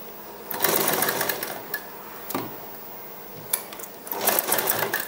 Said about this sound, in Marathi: शिलाई मारताना आपण सुरुवातीपासूनच शिलाई घेऊया